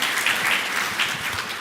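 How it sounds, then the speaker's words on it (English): A conference audience claps steadily, a full round of applause holding at an even level throughout. "let's give a round of applause to Jeff and Ilya"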